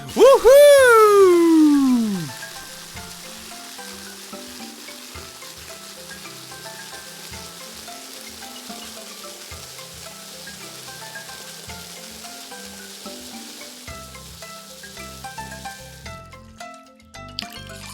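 Water sprays to shower a cartoon vehicle: a loud whooshing burst opens, then a soft steady hiss of spray runs on beneath light background music until it cuts off near the end.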